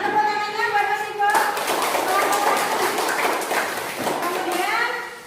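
Indonesian classroom students applaud a student with a burst of dense, moderately loud hand clapping that sustains for several seconds, following a teacher's brief spoken remark.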